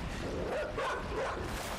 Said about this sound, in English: Oh my god, it's a dog!